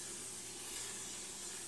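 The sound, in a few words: cooking spray being sprayed onto a cooking pan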